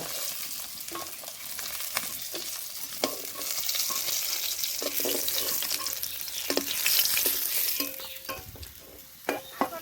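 Rohu fish frying in hot oil in a home kitchen, a steady close sizzle and crackle with occasional spatters and stirring clinks, no talk.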